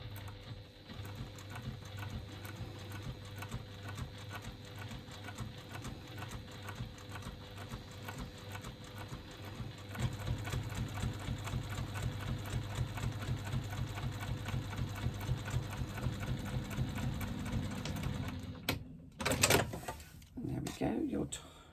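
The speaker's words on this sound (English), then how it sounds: "Now I'm going to top stitch along the top edge of my slip pocket" Sewing machine top stitching along the top edge of an internal slip pocket, a steady close mechanical whir with rapid stitch ticks that picks up speed midway, then stops near the end with a few handling clunks.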